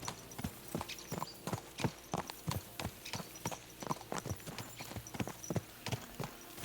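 Horses' hooves clip-clopping steadily on a road in Kingdom Come Deliverance 2, a brisk close rhythm of hoof strikes from more than one horse, with no voices.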